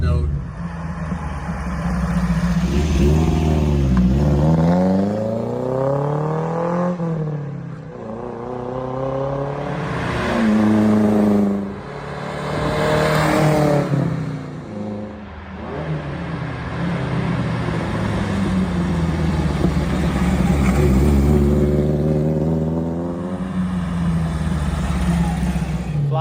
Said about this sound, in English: It has got a very cool exhaust note.